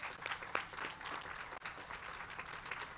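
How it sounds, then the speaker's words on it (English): Graduation audience at a doctoral hooding ceremony breaks into applause, a soft, somewhat distant field of clapping with a few crisp nearer claps popping out, steady for the whole stretch. "your families really need a round of applause"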